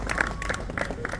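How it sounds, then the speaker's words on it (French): Audience applause greets riders at a professional cycling team presentation before the Etoile de Bessèges – Tour du Gard 2026 stage race, a steady wash of clapping with scattered louder claps and faint crowd murmur. "Une belle équipe que je vous propose de saluer et d'applaudir chaleureusement"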